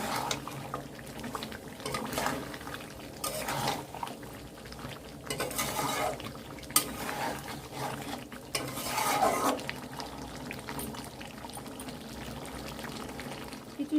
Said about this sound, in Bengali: এখন দিয়ে দিচ্ছি সামান্য পরিমাণ মতো জল আবারও দশ মিনিট ভালো করে কষিয়ে নেব